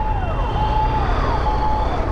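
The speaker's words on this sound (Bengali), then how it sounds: "পিছনে অ্যাম্বুলেন্স আছে" An ambulance siren wails on the road behind a moving vehicle, a steady rising and falling tone heard clearly over loud, low engine and road rumble.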